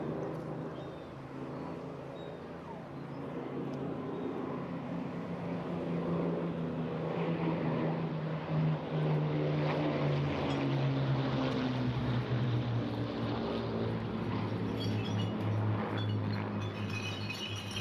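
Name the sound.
Blenheim propeller aircraft flying at airshow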